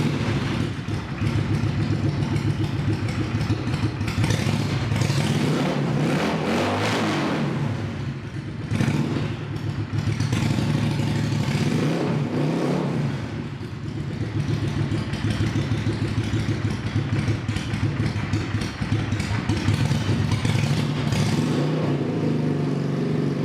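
A warmed-up 2007 Yamaha V-Star 650 Custom motorcycle engine runs steadily nearby, with a continuous throbbing idle and a few mild swells in revs throughout, no talking.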